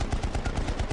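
Rapid automatic gunfire in the video game Syndicate, a fast burst of evenly spaced shots running through the whole second, loud and close.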